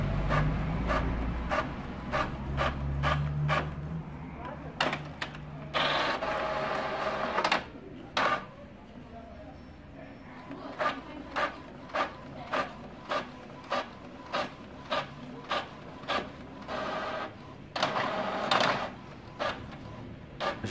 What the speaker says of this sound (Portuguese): E aqui ele vai imprimir o livreto certinho.